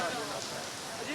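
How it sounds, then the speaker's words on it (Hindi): Heavy rain pours down in a dense, steady hiss that fills the whole moment evenly, loud and close, with no gaps. "बारिश बहुत तेज़ हो रही है"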